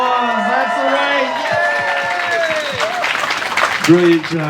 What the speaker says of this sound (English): There it is. Applause,